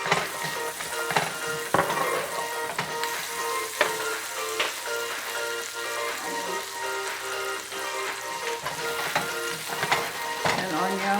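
Garlic fries in a casserole pot with a steady, close sizzle, crackling and popping throughout, joined by clinking utensil stirs and scrapes at intervals.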